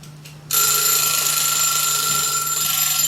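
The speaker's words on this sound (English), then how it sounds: "You can buy these individual little timers. They're really inexpensive. They have a really annoying sound to them." A loud, shrill electronic alarm from a small kitchen timer starts abruptly and rings continuously without pause, close by and piercing.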